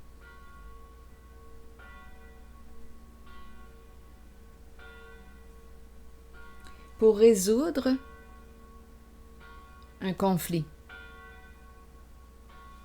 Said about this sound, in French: J'adore le son des cloches.